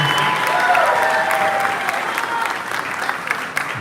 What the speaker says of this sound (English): Can we have a nice round of applause for our Mr. Amigo President, Ms. Marta de la Garza.